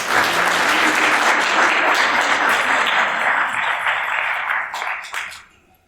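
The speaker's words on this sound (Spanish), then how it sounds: "Un aplauso para ella, por favor." Conference audience at a parapsychology talk breaks into dense, sustained applause for an introduced speaker, holding steady for about five seconds before tapering off quickly to silence.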